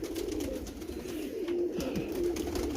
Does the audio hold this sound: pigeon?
yes